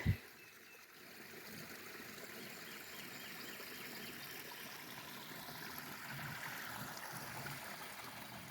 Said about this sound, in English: So you can hear the waterfall,